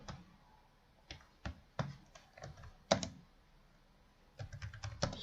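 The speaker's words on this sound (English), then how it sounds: "Now let's type in the new line" Keystrokes on a computer keyboard come in scattered bursts of clicks, a few quick taps then pauses, close and fairly quiet, with no talking.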